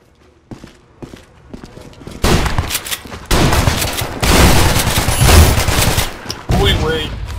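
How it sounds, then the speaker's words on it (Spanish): Heavy machine gun fire in the video game Ballistic starts with scattered single shots and builds into loud, sustained rapid bursts with short gaps, mixed with other game noise. "hay una pinche ametralladora de las chonchototas"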